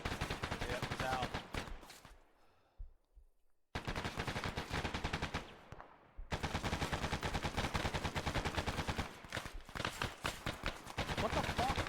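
Dense, rapid automatic gunfire in the Arma video game, close and loud, rattles almost continuously in long bursts broken by a couple of brief lulls.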